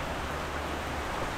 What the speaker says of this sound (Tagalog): Tamang antay lang kailan titila ang ulan, di ba?